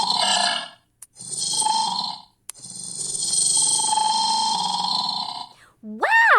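A Komodo dragon gives a series of deep, rasping, burp-like grunts and rumbling hisses in separate bursts, loud and close, ending with a rising squeal, with no talking.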